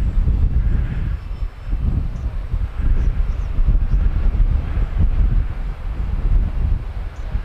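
Heavy wind buffeting the microphone while a 3D printed model plane flies outdoors, a loud, steady low rumble with gusty surges throughout and a faint motor whine above it.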